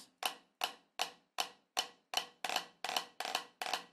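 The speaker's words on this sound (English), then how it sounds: "So it would sound like this: flams" Snare drum flams played with sticks in a steady, slightly quickening run of about ten crisp strokes, close and clear with no talking, the grace note blurring into each main hit.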